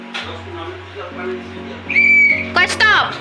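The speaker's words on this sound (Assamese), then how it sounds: "আৰু হুইচেল মাৰি দিয়া" A child blows a shrill whistle at a crowded fair, with one long steady tone followed by shorter warbling blasts, loud over a continuous low hum and background chatter.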